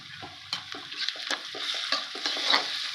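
Ginger garlic paste sautéing with half-cooked onions in a pan, brief bursts of sizzle and spatula scrapes in an uneven rhythm, close and short, no voices.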